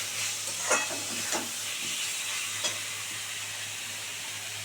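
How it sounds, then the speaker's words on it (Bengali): Blender rinse water poured into fried fish masala for an aar fish rasha, a soft steady sizzle and hiss with a few brief splashy bursts, fairly quiet and close. "এবার এর মধ্যে মিক্সি ধোয়া জল দিয়ে দেবো"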